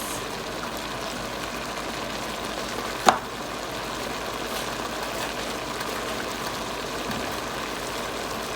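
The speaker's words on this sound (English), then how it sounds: "There we simmer again the vegetables" Chopsuey vegetables simmer in a pan with a steady, moderate bubbling hiss that runs evenly throughout, broken once by a single brief sharp tap, and no one talks.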